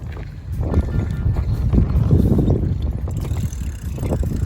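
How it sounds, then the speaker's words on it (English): Wind buffets the microphone during a first-person bike ride along a nature trail on a hot summer day, making a constant low, gusting rumble that swells and fades. "It's a windy day."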